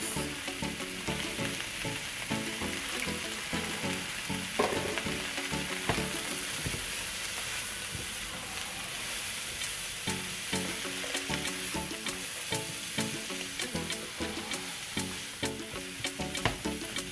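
Carrots fry and sizzle in a pan while alfredo is being made, a steady loud crackle lasting throughout with frequent small pops and stirring clicks, no talking.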